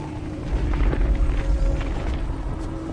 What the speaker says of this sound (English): It's opening up!